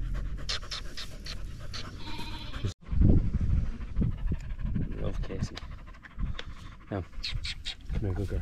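A working sheepdog on a hill sheep farm pants close by in quick rhythmic breaths, broken by soft animal sounds and a handler's quiet talk.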